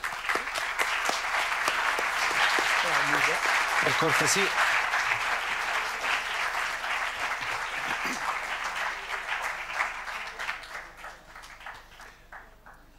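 An audience applauds a visiting lecturer at a mathematics talk in Foligno, with sustained clapping filling the hall for several seconds, a brief spoken phrase over it, before slowly fading.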